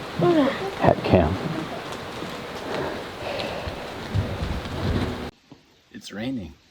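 Steady rain hisses in the video game Kingdom Hearts III, with low rumbles beneath and voices talking over it before the sound cuts out abruptly.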